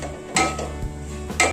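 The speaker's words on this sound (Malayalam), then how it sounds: "ഇനി നല്ലപോലെ ഇത് ഇളക്കി ഒന്ന് മൂപ്പിച്ച് കൊണ്ട് കൊടുക്കണം." Chili and pepper powders, with a green chili, being stirred and roasted in a pan for homemade beef peralan; two or three close metallic scrapes and knocks of a spoon against the pan over a low sizzle.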